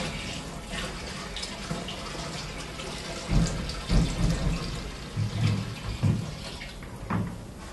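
Water pouring from a 5-gallon bucket into the solution tank of a heated portable carpet extractor, a steady close splashing flow with a few louder gulping surges.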